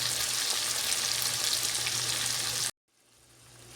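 Tomatoes for chicken karahi simmer in a covered pan, giving a loud, steady sizzling hiss that cuts off abruptly, followed by a faint low rumble slowly building.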